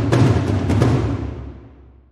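Sampled percussion recorded in the large room at Abbey Road: two or three roomy hits in quick succession, followed by a long, clear reverberant tail that fades out.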